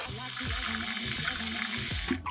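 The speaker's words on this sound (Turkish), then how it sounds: "Nişastasını arındırana kadar bol suda yıkayacağım. Bol bol yıkıyorum." Rice being rinsed in plenty of water for sushi, with steady running and sloshing water from a kitchen sink, close and continuous, with a short clatter near the end.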